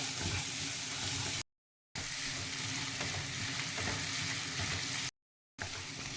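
Masala with ginger paste frying in a pan for bagara rice, a steady close sizzle with stirring, running continuously apart from two brief cuts to silence.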